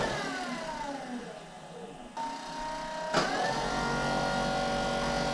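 A 1968 Ford Mustang engine with a flat tappet camshaft hums steadily at idle, its pitch shifting slightly before settling into an even, smooth drone, fairly close.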